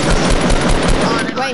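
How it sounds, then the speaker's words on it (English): Rapid automatic gunfire from a Fortnite battle royale match rattles loud and close in a fast burst of repeated shots, filling the whole moment. "I'm gonna shoot it."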